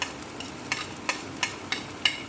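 Garlic ginger paste and spices fry in a pan as Kashmiri red chili goes in, a soft continuous sizzle broken by five regular sharp scrapes of a stirring spoon.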